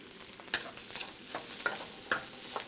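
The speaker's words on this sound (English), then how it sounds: "we're gonna saute that until the garlic and the shallots are wilted" Garlic and shallots being sautéed in oil in a pan for pad Thai, with a steady sizzle and occasional scrape and stir of a utensil, close and fairly quiet, with no talk.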